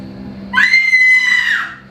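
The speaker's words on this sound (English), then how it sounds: "I heard screams." A single high, sustained scream rings out for about a second, loud and piercing over a low background hum, with no talking.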